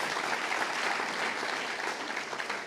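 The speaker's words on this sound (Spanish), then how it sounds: "Damos una ofrenda de palmas al Señor" A congregation at a church plenary session claps together as an offering of praise, a dense, steady wash of applause that fills the room evenly for the whole stretch without letting up.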